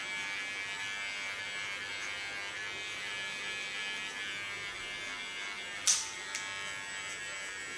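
Electric hair clipper buzzing steadily as it cuts short hair guided by a comb, a close, even hum with a brief sharp click near the end.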